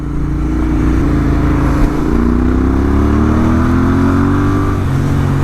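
Royal Enfield Interceptor 650 fitted with an S&S camshaft, ridden with a loud, close twin-cylinder engine drone whose pitch climbs steadily through the revs, then drops briefly near the end as a gear changes.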